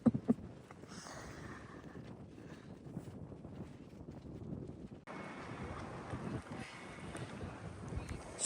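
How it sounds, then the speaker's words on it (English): Strong wind buffets a boat out on the bay, a steady rough roar of gusts across the microphone with a rise in force partway through and no talking. "Strong wind coming from that direction."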